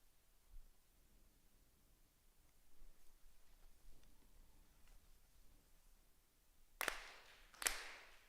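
Ritual hand claps ring out at a Konko spring memorial service: after a long hush with faint room taps, two sharp, crisp claps land close together near the end.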